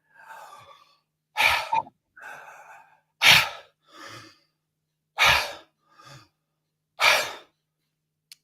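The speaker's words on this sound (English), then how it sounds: "So deep through the belly and then up to the chest and then out like a wave." A breathwork demonstration of deep belly breathing: about four strong, airy inhale-and-exhale sighs spaced a couple of seconds apart, close to the microphone, with softer breaths between them and no talking.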